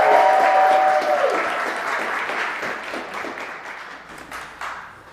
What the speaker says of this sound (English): Let's give a round of applause for DonYé.